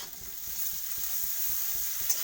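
Onion with chopped garlic frying in a pan: a steady close sizzle and hiss, broken by regular stirring scrapes about twice a second, with no talking.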